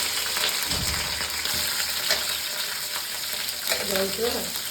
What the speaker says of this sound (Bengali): ক্যাপসিকামটা আগে ভেজে নেব